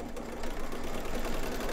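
A sewing machine stitches folded fabric for an appliqué mug rug, running with a steady rapid mechanical whir and clatter close by, no voices.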